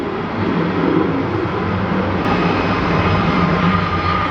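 A PSA Airlines aircraft taxis toward the runway at Dallas Fort Worth airport, giving a steady, continuous broadband roar of jet engines at constant loudness with no voices.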